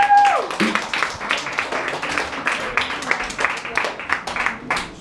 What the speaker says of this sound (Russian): Аплодисменты, господа!